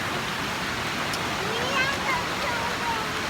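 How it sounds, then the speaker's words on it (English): A waterfall roars as a steady, loud broadband rush, with faint voices of a vacationing family nearby. "We're at the waterfall."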